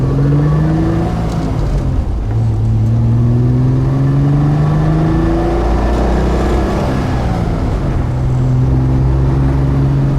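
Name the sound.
Triumph TR6 straight-six engine accelerating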